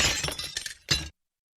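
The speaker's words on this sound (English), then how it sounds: "The last bowl crashed." Ceramic bowl crashing and shattering in a kitchen, heard as a loud burst of breaking with tumbling clinks, then a second sharp crash before it cuts to silence.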